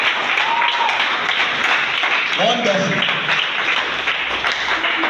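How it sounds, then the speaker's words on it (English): A round of applause at a school visit marking a writer's birthday commemoration, continuous clapping from an audience throughout, with a brief spoken word and other voices over it. "Please, another round of applause for her."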